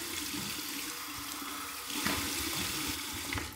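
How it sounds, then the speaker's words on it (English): Steady rush of cold tap water running into a bathroom sink for a rinse after shaving, continuous and close, swelling slightly about halfway through, with no talking. "here's my final cold water rinse"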